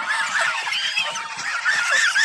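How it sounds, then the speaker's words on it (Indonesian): A flock of two-month-old farm geese honks loudly and continuously while being fed rice bran, the calls overlapping into a dense, close chorus. "Ini edisi lagi ngasih pakan angsa guys ya."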